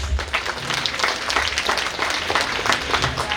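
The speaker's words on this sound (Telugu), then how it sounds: "క్లాప్స్." An audience at a Christmas program in Eluru applauds with dense, sustained clapping that holds at an even level from start to finish.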